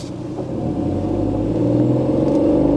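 A car accelerating during a driving lesson, its engine rumble rising steadily and loud from inside the cabin, no talk over it.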